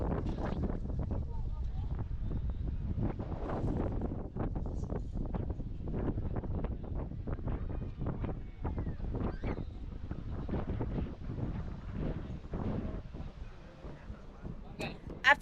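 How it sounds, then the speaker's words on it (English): Steady wind gusting across a microphone on a cool, breezy Sunday in Salvador, Bahia, a constant low rumble with buffeting bursts throughout and some faint talk beneath it. "it's just so windy, but the wind feels nice"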